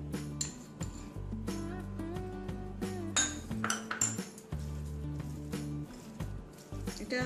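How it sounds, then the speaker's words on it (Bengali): Chicken is mixed by hand with soy sauce and cornflour in a bowl, a quiet run of soft squishing and small clinks against the dish, with no voice over it. "যদি ভালো করে হাত দিয়ে মাখাতে হবে, আর একটু সয়া সস দেব।"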